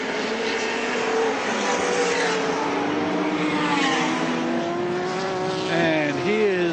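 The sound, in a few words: Ford Falcon touring car racing at Lakeside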